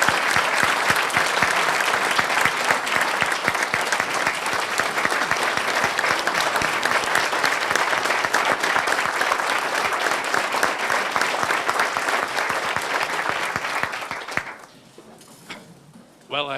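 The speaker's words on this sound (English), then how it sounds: "would you join me in thanking Dr. Hargens and this board for their strong leadership?" Loud, sustained audience applause at an education press conference, dense continuous clapping for about fourteen seconds before cutting off into near silence with a brief noise at the end.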